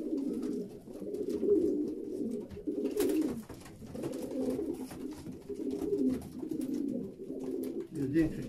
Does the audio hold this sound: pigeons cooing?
yes